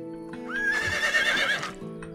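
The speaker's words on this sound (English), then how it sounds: "Shut up, horse." A horse in the video game Medieval Dynasty gives a loud, drawn-out neigh over a steady musical drone, with hoof clip-clops around it.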